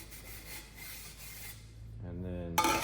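Abrasive scratching cleans a titanium exhaust pipe ahead of welding, soft close rubbing strokes that grow slightly louder and end in a sharper rasp.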